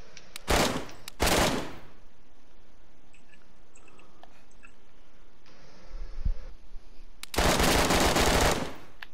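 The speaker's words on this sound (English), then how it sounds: "they're shooting at me" Bursts of rapid automatic gunfire in the DayZ video game, two short volleys early, then a quieter stretch, then a longer loud volley near the end, with no talk.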